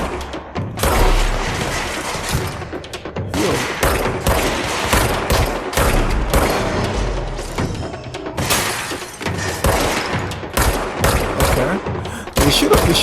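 Dense, loud gunfire in the video game Control, continuous volleys of sharp shots with shattering impacts and booms running almost unbroken throughout.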